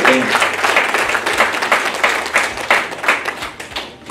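An audience at an insurance sales seminar breaks into loud applause, a dense burst of clapping with uneven swells that lasts about four seconds.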